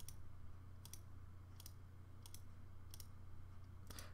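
Mouse clicks while stepping through Geoguessr street view: sharp, quiet double clicks repeating about every three quarters of a second over a steady low hum.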